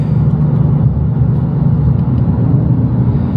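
A Shelby Super Snake, a Whipple-supercharged 5.0 V8, pulls hard from inside the cabin with a loud, dense, steady rumble and no voices.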